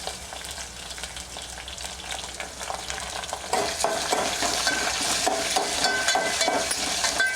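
Green chilli and tomato fry in a pan with curry leaves, giving a steady close sizzle that grows louder midway, while a spoon stirs and scrapes throughout and nobody speaks.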